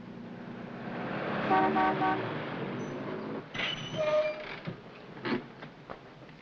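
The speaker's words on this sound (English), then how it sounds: "Danziger, force that car ahead into the curb" A car honks its horn repeatedly in an old 1948 film's car chase, with engine rumble underneath as one car forces another into the curb, followed by brief squeals and softer traffic noise.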